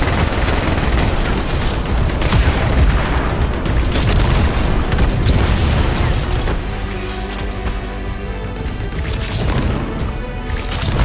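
Rapid gunfire and heavy explosions from the sci-fi shooter game Anthem, a dense, loud barrage of crashing blasts and bursts that continues throughout with no pause.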